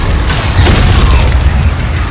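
The Reaver Shot, a ballistic iron mace weapon in DOOM: The Dark Ages, fires with a loud, dense booming roar that fills the whole moment, heavy low rumble with a few sharper cracks on top.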